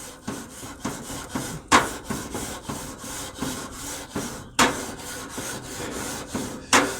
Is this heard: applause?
no